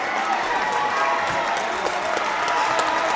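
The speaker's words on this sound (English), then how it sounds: "Hence the loud cheer." Loud, sustained crowd cheer and applause at a 5A playoff high school basketball district quarterfinal, Pottsgrove vs Springfield Delco, a steady roar with scattered claps filling the gym.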